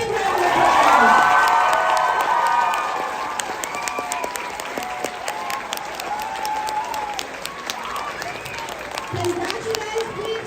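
Loud applause and cheering from a crowd at a robotics state competition for the Programming Pickles team, peaking early with shouts from young voices, then settling into steady clapping with scattered whoops.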